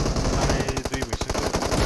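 Rapid automatic gunfire from the battle-royale game PUBG, a dense string of loud, close shots in quick repeating bursts that fills the whole moment with no talking.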